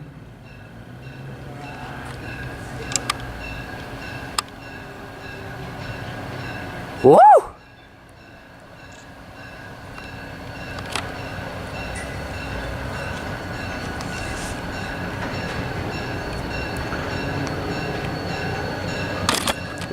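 Great Northern 400 locomotive pulls into Osceola station with a low continuous rumble, a brief horn-like tone midway, scattered camera shutter clicks, and a person shouting once.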